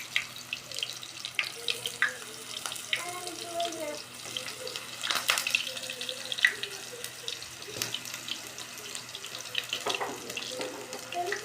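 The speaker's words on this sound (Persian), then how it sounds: "خب حالا بادمجون رو سرخ میکنیم" Eggplant frying in oil in a home kitchen, a steady soft sizzle and crackle with scattered pops, fairly quiet, with a voice talking over it at moments.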